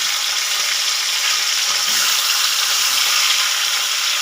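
Fish heads fry in a pan with a loud, steady, close sizzle of hissing oil that holds evenly throughout, with no voices.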